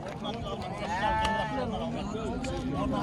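Goats and rams bleat at a livestock market in Kara-Balta, several wavering calls rising over a busy crowd, with people talking throughout.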